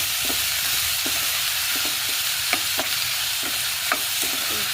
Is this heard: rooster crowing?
no